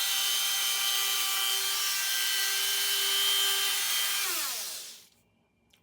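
A Benchmark Dremel Snake flexible-shaft attachment spins at high speed on a Dremel rotary tool, giving a loud, steady high-pitched whine. The pitch falls as the tool winds down and stops, leaving near silence.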